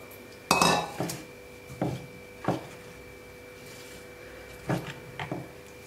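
A ladle knocks and scrapes against a metal cooking pot while ragi porridge is stirred, giving several separate clanks spaced a second or so apart over a quiet kitchen background.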